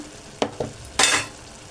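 Cauliflower curry with tomato and chili powder stirred in a pan: a couple of quick spoon scrapes, then a brief burst of hissing sizzle, close and fairly clear.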